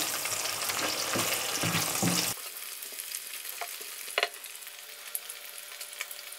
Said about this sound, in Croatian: Evo, slanina se ispržila